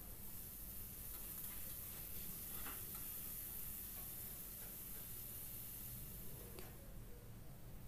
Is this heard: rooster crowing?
no